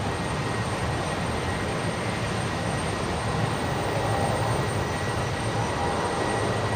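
A jet departing Brisbane Airport in stormy cyclone weather, heard as a steady, dense engine roar that stays broadband and constant throughout, with no talking over it.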